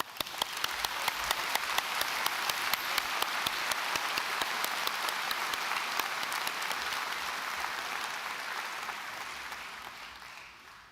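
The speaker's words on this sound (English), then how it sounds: "We'll give them a round of applause." Steady, dense audience applause at a university autumn graduation ceremony, with some nearby claps standing out crisply at the start before the sound settles into an even roar that gradually fades toward the end.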